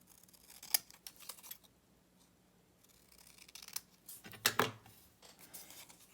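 Scissors snip across the top of a folded paper envelope in a few sharp, quiet cuts with short pauses, ending in a brisker pair of snips up close.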